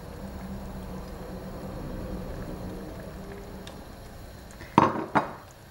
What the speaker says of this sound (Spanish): Ya está hirviendo. Y vamos a poner los espaguetis frescos.